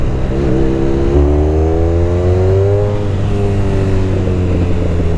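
A 170 horsepower sports touring motorcycle engine drops a gear with a blip, then revs up in a loud, rising whine that climbs steadily before easing off and settling, heard up close and alone.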